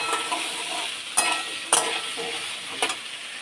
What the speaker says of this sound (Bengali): এখন আলুটা ভেজে নিই একটু।